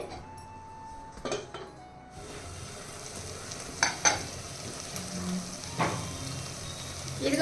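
Tomato pieces frying in oil in a covered pan, with a steady sizzle and a few scattered clinks and scrapes of a utensil against the pan.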